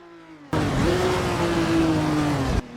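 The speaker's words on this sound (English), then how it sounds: "He's tearing past the tyre markers with precision, hurtling down the final straight." A Ferrari race car roars loud and close along the final straight of a track, its engine note rising and holding steady at high revs for about two seconds before cutting off abruptly.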